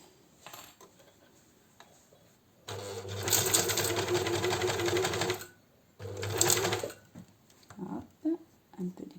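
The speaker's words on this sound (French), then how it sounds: "je vais venir coudre tout le long au bord de mon pli" A domestic sewing machine stitches along the fold of T-shirt fabric in two loud runs, a long one then a short one, with quiet handling sounds and someone speaking in between.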